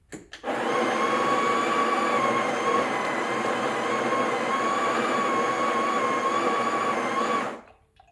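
A Breville Barista Express BES870 burr grinder grinds a single coffee dose: a loud, steady motor whir with a grinding texture. It runs for about seven seconds, then cuts off, with no talking.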